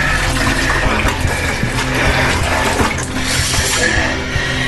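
Water sloshes and runs constantly at the muddy floor of a narrow hole about 2.5 feet wide and 60 feet deep, knee-deep in mud at a gold-digging site near Timbuktu, with a dense, steady wash of splashing and trickling throughout.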